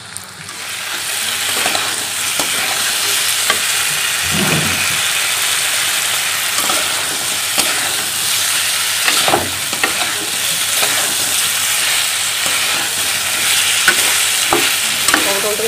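Potato and brinjal curry sautés loudly in a pan, a dense continuous sizzle broken by repeated scraping strokes of a spatula, close and with no talking.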